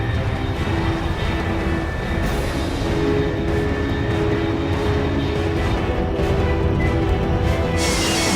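A fast jet aircraft streaks past in Metal Gear Solid 3, its broadband roar holding steady and loud for the whole stretch, swelling slightly toward the end, with no talk over it.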